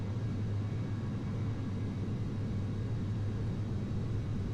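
Steady, broad jet engine roar of a Boeing 737-800 taking off in Flight Simulator X, a constant low rumble with no change in level.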